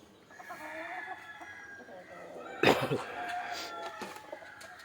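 Hens cluck softly nearby while a rooster crows once loudly partway through, amid a quiet farmyard background.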